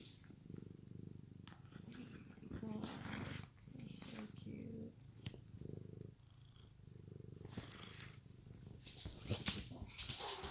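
A cat purrs steadily up close, a low rumbling drone broken by brief pauses, with soft murmuring voices and small rustles over it.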